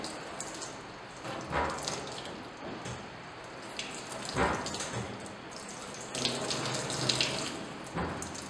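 A tap runs steadily into a sink as hands are rinsed during surgical scrubbing, with a continuous close wash and shifting splashes as the hands move through the stream, no voices.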